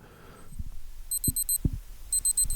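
A clothes dryer signals the end of its cycle with two bursts of rapid, high electronic beeps, each a quick run of about five tones, amid quiet thumps and light room noise.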